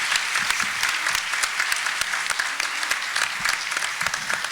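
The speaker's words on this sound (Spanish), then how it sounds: "un aplauso muy fuerte para nuestros invitados" An audience at a public-sector panel on personal data protection applauds its guests with steady, dense clapping throughout, close and fairly loud.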